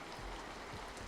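Steady rain falls in a continuous soft patter of drops, close and even throughout, with no voices.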